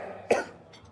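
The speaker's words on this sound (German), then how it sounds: "Noch einmal laut husten." A single loud, sharp cough bursts out near the microphone in a restaurant, followed by a faint trailing breathy sound, with no talk over it.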